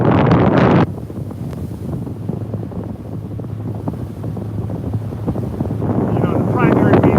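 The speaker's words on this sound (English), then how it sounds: "you can see if you can hear me through the wind" Gusty wind buffets a microphone beside the water at a paddleboard distance race, a loud rumbling roar that swells at the start and end, with a voice partly buried beneath it.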